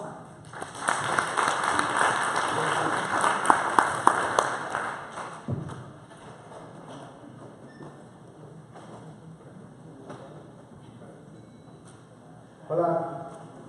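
Applause for a conference speaker from Salesforce breaks out in a hall, a dense burst of clapping over the first few seconds that fades out, followed by quiet room noise and a brief thump near the end.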